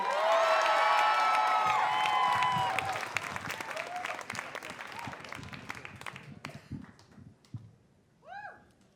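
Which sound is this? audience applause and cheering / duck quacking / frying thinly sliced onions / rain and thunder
audience applause and cheering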